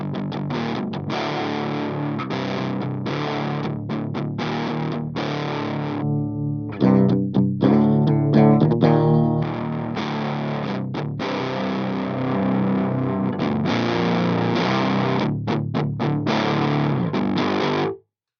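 An electric guitar runs through a Behringer HM300 distortion pedal with the distortion turned all the way down, playing a rhythmic riff with chugging palm-muted chords and a brief ringing passage, loud and alone.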